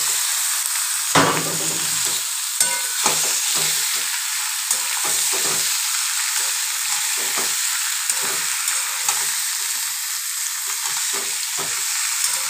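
Chicken pieces hit browned onions in a hot pan, raising a loud, continuous close sizzle broken by frequent scraping and knocking strokes of a spatula stirring, with no talking.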